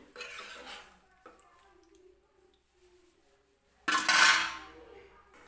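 A metal lid is set onto a cooking pot of potato kurma, a loud clattering clank near the end after faint kitchen clinks.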